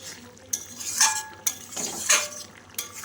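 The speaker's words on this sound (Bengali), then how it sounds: "আমি তরকারিটা ভালো করে নেড়ে দিচ্ছি" A utensil stirs a shrimp and Malabar spinach curry in a pan, with several sharp metallic clinks and scrapes against the pan in irregular strokes, close by over a soft background, no voices.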